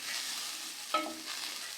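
Garlic and green chillies sauté in a pan for poori masal, giving a steady close sizzle throughout, with a single utensil clink and scrape near the middle.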